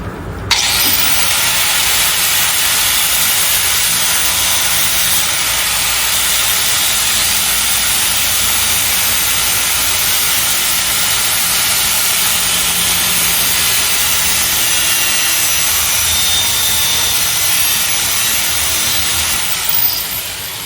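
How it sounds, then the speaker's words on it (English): Metal being trimmed on a 1956 Chevy Bel Air body during a swap onto a 2003 Pontiac Grand Prix GTP chassis, giving a loud, steady, harsh hissing roar that runs unbroken for about twenty seconds with no talking. "I really should trim this off about an eighth of an inch."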